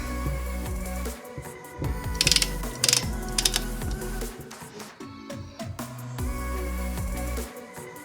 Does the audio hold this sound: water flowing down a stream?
no